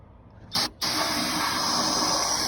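A steady, loud aerosol hiss sprays continuously into a diesel engine that has not run in 11 years, briefly interrupted near the start, then holding strong and even to the end.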